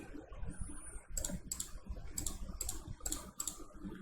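A computer mouse clicks in short, evenly spaced clusters during Photoshop skin retouching, close and fairly faint over a low room hum, with no speech.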